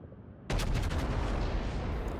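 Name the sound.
Montana battleship main gun salvo in World of Warships video game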